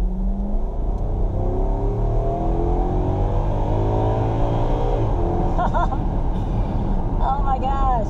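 A 2019 Toyota Tundra SR5 Off Road 4x4 pickup's engine revs up loudly from inside the cab, pitch climbing steadily through several gears, with a person talking over it near the end.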